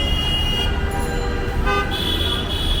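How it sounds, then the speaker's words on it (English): A double-decker bus rumbles through busy Dhaka street traffic, its engine a low, steady drone amid a constant din of tooting horns and road noise close by. "It's a double-decker bus."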